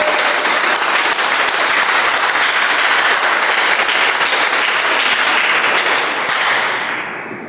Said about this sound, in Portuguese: desocupando a tua mão e aplaudindo o Senhor Jesus com alegria.